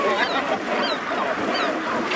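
Dense Scottish seabird colony of gannets on Bass Rock, a continuous chorus of harsh overlapping calls from many birds close by, loud and steady throughout with no pauses.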